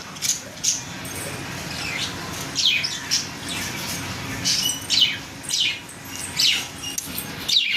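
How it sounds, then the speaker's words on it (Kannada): Pet lovebirds squawk and chirp in repeated short, sharp bursts close by, over a steady background hiss. "love birds"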